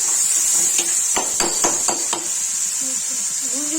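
Tomatoes fry with onion, garlic and ginger in a pan, a steady loud sizzle with a series of sharp utensil taps and stirring knocks near the start.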